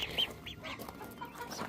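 Chickens cluck softly nearby in a coop with ducks, several short clucks and calls in quick succession with no talking.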